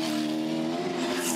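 A Supercars V8 race car at Bathurst's Mount Panorama, powering out through the Dipper on the final lap of the 1000 km race, a loud sustained engine roar close by without pause.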